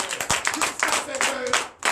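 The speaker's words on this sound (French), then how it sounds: "Donnez l'acclamation à notre Seigneur." A church congregation claps in acclamation during a night prayer service, scattered claps mixed with voices and singing.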